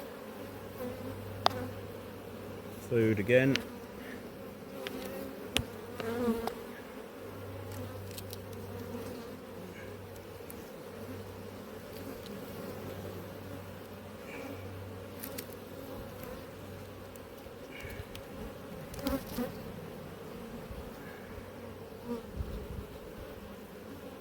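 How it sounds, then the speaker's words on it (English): Honeybees at an apiary hive hum in a steady, low background drone, with a few closer buzzing passes and brief knocks; a voice briefly speaks. "there's lots of bees"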